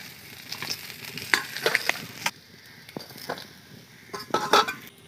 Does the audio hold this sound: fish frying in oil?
yes